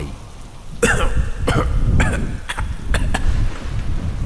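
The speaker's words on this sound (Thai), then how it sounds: "ค่อยๆ ลืมตาขึ้นมา กระแอมกระไอสำลัก จนน้ำพุ่งออกจากปาก" A person surfacing from water coughs and sputters, choking up water in a series of about six sharp, fairly close coughs spaced roughly half a second apart over a steady rain-like background hiss.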